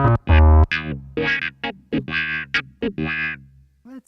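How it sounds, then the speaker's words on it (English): Distorted clavinet tone from a GSI Gemini/DMC-122 setup with wah, playing a choppy run of short, punchy notes with gaps between them, loud and close with a thick, buzzy edge. "Just for kicks, let's turn up the distortion on the clav."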